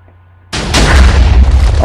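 Massive TNT explosions in Minecraft burst in after a brief quiet, becoming a loud, continuous roaring rumble of overlapping blasts.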